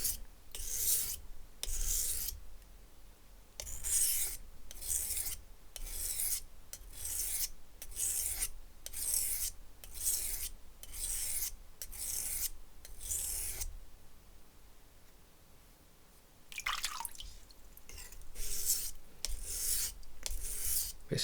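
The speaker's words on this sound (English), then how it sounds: "Essentially I'm stropping right now, removing any unnecessary burrs on the knife." A knife with a broken tip is stropped to remove burrs. Close, rhythmic rasping strokes come in a steady run, pause briefly, then resume, with no voices.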